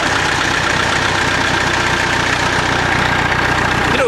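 A Massey Ferguson 65 diesel tractor idles close by, its engine giving a steady, loud, rough knocking rumble that holds without a break.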